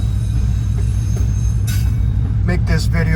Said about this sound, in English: waiting for this train to go by